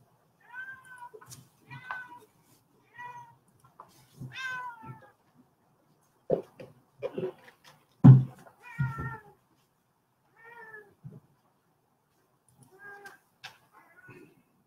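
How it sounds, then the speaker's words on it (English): A house cat meows over and over in short, clear, whining calls spread across the whole stretch, with a few quiet low voice sounds in between. "It's my cat."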